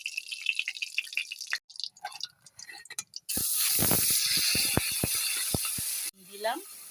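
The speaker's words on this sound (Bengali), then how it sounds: "এবারে তেল দিচ্ছি, সিম বাটা কষবো।" Bean paste spiced with black cumin hits hot oil and breaks into a loud, steady hiss and crackle of frying. Quieter clatter and stirring come before it, and the sizzle drops away near the end.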